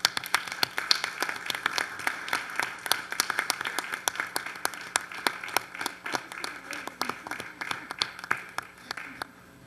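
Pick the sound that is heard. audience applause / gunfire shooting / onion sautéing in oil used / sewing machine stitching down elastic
audience applause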